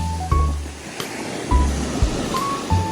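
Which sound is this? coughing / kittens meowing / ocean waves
ocean waves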